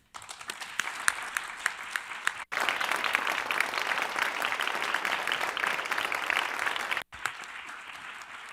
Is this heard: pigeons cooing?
no